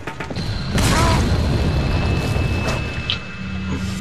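A grenade goes off in Resident Evil 4 Separate Ways with a heavy, deep boom. The rumble rolls on for a couple of seconds, then settles into a low background drone, with a few faint mechanical clicks.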